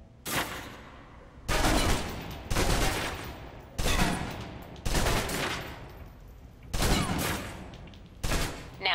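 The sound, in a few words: submachine gun firing a full clip in video game Alpha Protocol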